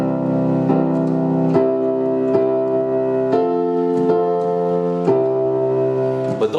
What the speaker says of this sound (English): You could take that simple line of melody notes and turn it into a chord sequence that sounds something like this.